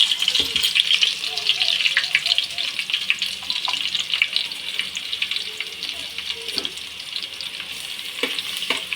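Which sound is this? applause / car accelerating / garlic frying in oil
garlic frying in oil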